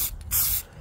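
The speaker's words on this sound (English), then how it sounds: "And then I start off by spraying top down." A short, close burst of aerosol spray hissing, swelling louder in the middle before easing off.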